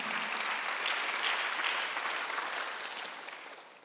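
A church congregation at a Sunday service claps together in a broad, even wash of applause that stays fairly steady, then gradually fades, with no voices over it.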